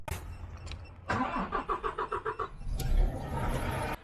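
A diesel engine with low fuel pressure cranks in a rapid pulsing rhythm after a brief click, then catches and runs roughly with a loud, steady rumble, close by with no talk.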